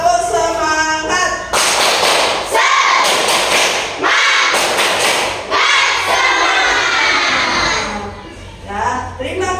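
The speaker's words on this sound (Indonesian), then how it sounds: "Tepuk semangat." A school class performs a rhythmic spirit clap, bursts of unison claps and thumps in patterned groups with children's voices shouting between them and a teacher speaking.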